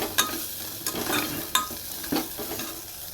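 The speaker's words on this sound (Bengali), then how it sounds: "আর তুলতুলার জন্য ছোলা আলু লাউ দিয়ে একটু আদা জিরে বাটা দিয়ে একটু ঝোল ঝোল তরকারি করবো ওই সব কিছু দিয়ে একটু কষিয়ে নিচ্ছি" Chickpeas, potato and bottle gourd with ginger-cumin paste being sautéed for a curry: a steady close sizzle broken by several sharp spatula scrapes against the pan, with no talking.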